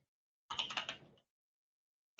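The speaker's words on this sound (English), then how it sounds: "I was just typing in read" Quick burst of typing on a computer keyboard, a dense run of close keystrokes lasting under a second, then silence and one more sharp click at the end.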